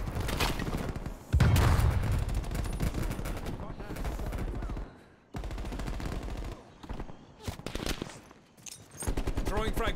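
Rapid automatic gunfire bursts from Call of Duty: Black Ops Cold War, loud and close, with explosive booms, brief pauses between volleys and a player talking over the action.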